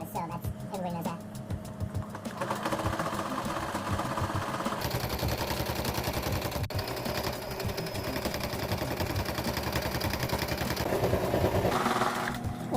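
A domestic sewing machine stitches fabric, its needle chattering in a fast, steady mechanical rhythm that runs close and loud through the whole stretch, with a brief change in tone partway.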